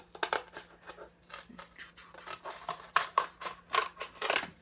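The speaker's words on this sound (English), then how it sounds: "You can do it with scissors." Scissors snip repeatedly through paper, a series of close, crisp cuts in an uneven rhythm with faint rustling between.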